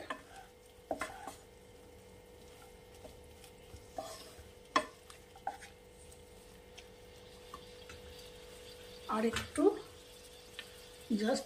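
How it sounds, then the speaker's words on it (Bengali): Spring onion and garlic greens stirred into a pot of veg chicken: soft, sparse scrapes and clinks over a quiet low hum, with a brief louder clatter of stirring near the end and a voice speaking at times. "দিয়ে একটু নাড়িয়ে চাড়িয়ে"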